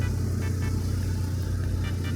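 The engine of a Toyota Tamaraw runs steadily, giving a close, low, continuous rumble with no voices.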